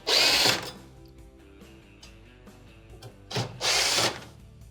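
Two short bursts of a power drill backing out Phillips screws from the panel of a Whirlpool microwave, the first at the start and the second near the end, with quiet mechanical ticking between them.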